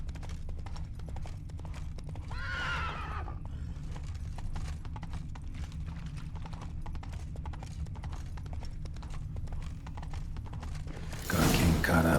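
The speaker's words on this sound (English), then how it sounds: "Horses must have gotten spooked." Hooves clip-clop steadily at a brisk trot throughout a scene in the video game The Witcher 3: Wild Hunt, with a brief horse whinny early on and a louder burst of noise near the end.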